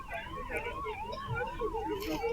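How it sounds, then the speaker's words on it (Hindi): Emergency vehicle sirens at the site of a plane crash in Baramati, Maharashtra, a rising and falling wail that loops continuously, moderately distant and mixed with faint background commotion. "हमें सायरन भी सुनाई दे रहे हैं, सायरन सुनाई दे रहे हैं।"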